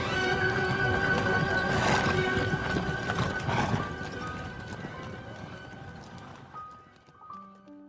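Hooves of horses as a king and twelve lords ride out of a castle, a dense rumbling clatter of galloping steps under a musical score, loud at first then fading away.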